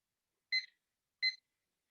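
A workout timer alarm gives two short, clear electronic beeps about three-quarters of a second apart, alone against silence.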